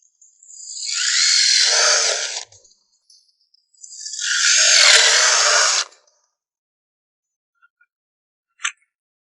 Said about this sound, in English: Now let's go ahead and drill this demonstration piece